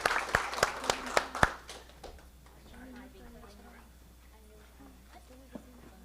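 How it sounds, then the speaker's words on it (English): A handful of loud, separate claps ring out at a school board meeting to honor spelling bee winners, then quickly stop as a voice begins talking over a quiet room. "Let's give our spelling bee winners one more round of applause."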